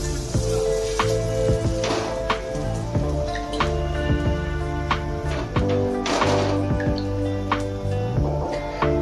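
A steady, close hiss of a rice-flour bhakri flatbread sizzling on a hot griddle as water is spread over it, with occasional crackles and soft scrapes throughout.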